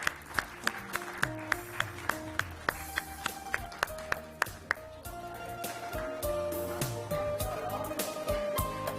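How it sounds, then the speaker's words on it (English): A string of sharp, evenly spaced claps gives way to a fuller, blended crowd applause with some background murmur, at a conference as people come onto the dais. "A big round of applause for these."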